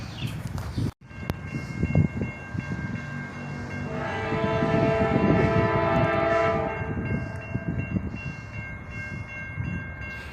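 A southbound CSX freight train rolls past slowly, opening with a sharp clunk before its horn sounds in long, loud, sustained blasts over the deep rumble of the locomotive, then fades back to the rolling drone of the cars.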